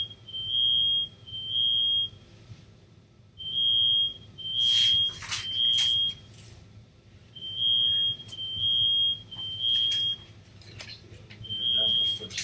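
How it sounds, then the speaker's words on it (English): Home smoke alarm set off by burned food, sounding repeated shrill high beeps in groups of three with short gaps, steady and fairly loud, with bursts of voices talking between and over the beeps. "So that is our smoke alarm and he burned something?"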